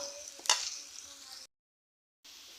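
Onions frying in a pot for beef biryani give a soft, close sizzle with one sharp stirring clack, then drop out into brief silence before the sizzle returns.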